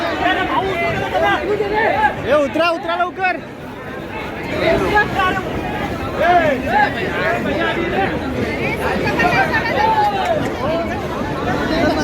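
Crowded platform for the Konkan Kanya Express, dense overlapping chatter and shouting voices close by, with one nearby voice calling out over the continuous hubbub.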